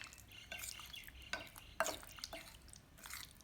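Marinated shark fish pieces being mixed together by hand in a bowl, soft wet squelches and scattered clinks in short bursts, quiet and close.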